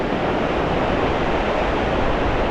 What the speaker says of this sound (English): that's just beyond those waves out there